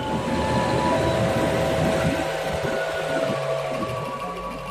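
The Bangunkarta train rumbles through Solo Balapan station, Indonesia, a steady loud roar of wheels and engine that gradually settles as it moves along.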